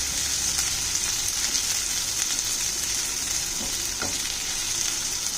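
Garlic and green chillies fry in a pan with a dense, even sizzle that holds steady throughout, broken by light stirring scrapes and a couple of soft knocks.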